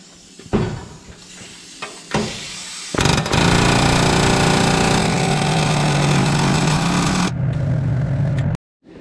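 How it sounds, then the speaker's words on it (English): Loud, sustained pneumatic air hammer rattling against a seized steering part on a John Deere 175 riding mower, preceded by a few sharp metallic clanks, then a steady hammering burst lasting several seconds before cutting off abruptly. "I'm gonna see if I can hit it with the air hammer again"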